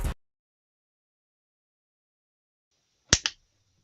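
A single sharp hand clap signalling the start of a live fantasy football show, preceded by a brief click and followed by a quick double-struck clap, then near silence.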